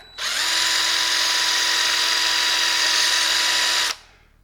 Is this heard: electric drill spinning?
yes